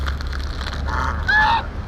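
Chinese basal knob geese honk close by in short, nasal calls, the clearest pair near the end, over steady low rumble and outdoor background.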